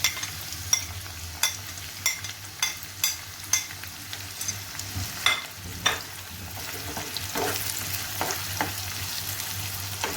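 Onion, ginger and green chillies fry in a pan with a continuous close sizzle, broken by repeated sharp clacks and scrapes of a spoon stirring, and no talking.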